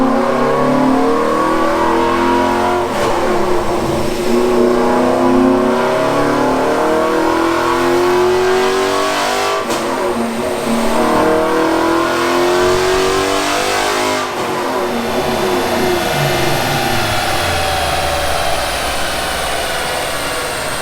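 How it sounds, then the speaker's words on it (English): A VMP Odin supercharged Mustang revs hard on a dyno during tuning, engine pitch climbing and falling repeatedly in loud, continuous waves with no talking. "so as you can see, the car's on the dyno"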